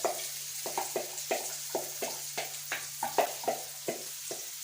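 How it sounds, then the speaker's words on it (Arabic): Onion dropped into hot oil in a home kitchen pan, a steady quiet sizzle broken by repeated short scraping stirs in an uneven rhythm. "وهنا حطيت شويه من الزيت اهو، وعلى طول احط البصل بالشكل ده"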